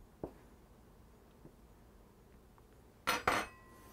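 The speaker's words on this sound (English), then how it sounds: "with a fork, just stitch that outer edge to make sure that it's sealed" A fork presses and crimps the edge of a small savory Genovese pastry, giving a couple of faint soft taps followed by two sharper, louder scraping clicks near the end, with no voices.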